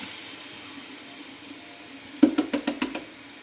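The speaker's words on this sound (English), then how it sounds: "I'm going to use my same little whisk. Rinse it off a little bit" A small kitchen whisk rinsed under a running tap: a steady low rush of water, then several quick clinks and splashes near the end.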